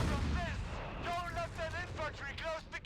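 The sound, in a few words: artillery attack-ground shot from video game Company of Heroes 3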